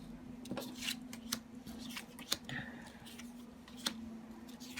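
Playing cards are laid out one by one for a fortune-telling reading, giving quiet, irregular snaps and slaps of card on card, close and faint, over a low steady hum.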